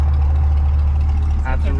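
A 2020 Chevrolet C8 mid-engine Corvette with an upgraded exhaust idles close by with a deep, steady low rumble, while people talk briefly over it near the end.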